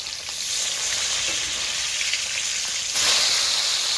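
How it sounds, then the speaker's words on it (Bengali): Katla fish fry in a hot pan and are turned over. A dense, loud sizzle runs throughout and grows brighter and stronger after the flip near the end, with no talking. "মাছটা 1 পিঠ ভাজা হয়ে গেছে, মাছগুলো এবার উল্টিয়ে নেব।"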